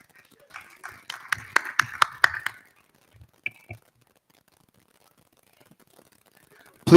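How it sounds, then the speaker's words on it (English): Brief burst of audience applause at the close of a session at an African housing show, a short run of sharp claps that quickly fades into near silence, with a few faint knocks afterwards. "Please, a round of applause for them."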